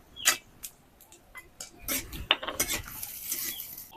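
A metal spoon scrapes and clinks against a pan as cashews and raisins fry in ghee, with irregular close taps and stirring scrapes over a faint sizzle and no talking.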